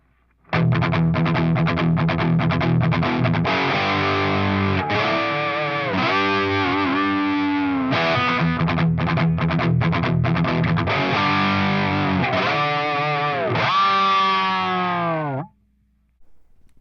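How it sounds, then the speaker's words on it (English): A compressed, slightly distorted electric guitar with a 1970s tone, through an LA Studio Comp model on a Line 6 Helix, plays chords and bends, smooth and even in level with softened attacks, alone until it stops abruptly. "It just takes off the edge of the attack and really gives you that sort of 70s sounding kind of guitar"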